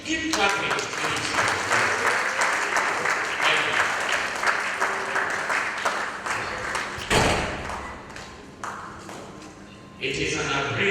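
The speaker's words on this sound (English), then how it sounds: "Please keep clapping, please." Audience applause at a university commencement lecture, sustained clapping from a seated crowd with a few louder thumps and a sharp burst near the end, while voices murmur underneath.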